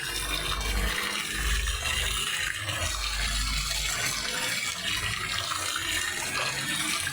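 Water runs steadily from a tap, a continuous loud splashing hiss close by with a low rumble underneath, unbroken throughout.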